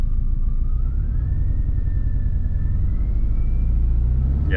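Car engine with a manual transmission held in first gear at high RPM, a steady loud droning rumble with a slowly rising whine lasting throughout, close up inside the car.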